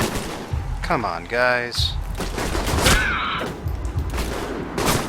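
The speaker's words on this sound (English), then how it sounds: "But then they just open fire." Enemy gunfire in the video game Alpha Protocol, bursts of shots and rattling fire layered with other game effects, loud and close, while someone speaks over it.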